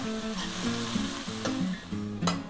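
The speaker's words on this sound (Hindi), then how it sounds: "प्याज को आपको भूनना है, गोल्डन ब्राउन होने तक इसको आपको भूनना है।" Sliced onion frying in a pan until golden brown for chicken tori, a steady close sizzle with stirring, over background music.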